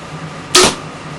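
An HCA Speed Pro compound bow, with no stabilizer and no string accessories, releases an arrow in a single quick, fairly quiet whoosh-snap against faint outdoor background.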